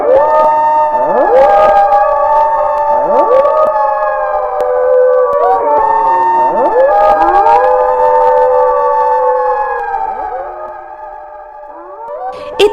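A jackal howls loudly and repeatedly, rising wavering wails raised toward the sky, with several overlapping howls in a sustained chorus that fades slightly near the end.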